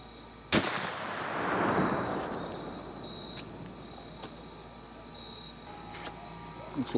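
A T/C Hawken muzzleloading rifle fires a single loud shot outdoors, a sharp crack followed by a long rolling boom that fades over a few seconds, with insects chirping faintly afterward.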